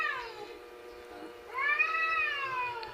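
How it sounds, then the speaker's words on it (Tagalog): Two drawn-out cat meows from cats on a roof, the second louder and longer, with a quiet, steady background between them. "nag-iingay na naman yung mga pusa"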